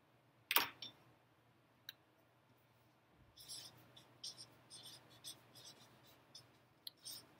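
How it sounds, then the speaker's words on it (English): A pen scratches across paper in short strokes during a math lesson, faint and close, after a sharp click at the start. "So let's write that down."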